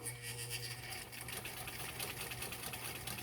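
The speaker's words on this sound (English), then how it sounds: "We're going to sew that down." A sewing machine runs steadily and quietly up close, its rapid needle chatter continuous throughout as it stitches elastic down onto a fabric face mask.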